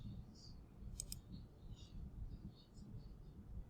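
A computer mouse gives two quick, faint clicks close together while someone works in TinkerCAD 3D design software, over a low background hum.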